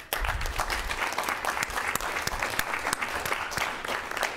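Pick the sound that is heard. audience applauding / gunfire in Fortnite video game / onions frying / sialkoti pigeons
audience applauding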